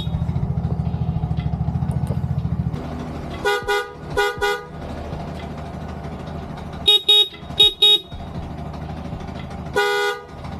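A Bajaj Maxima Z's stock horn gives several short, sharp beeps in spaced bursts after a steady idling engine cuts out, close and fairly loud.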